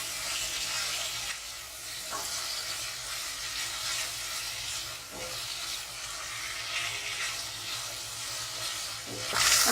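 Marinated chicken cooking in a pan on low heat for chicken alfredo, a continuous close hissing sizzle with light bubbling and a few faint stirring clicks, without talking.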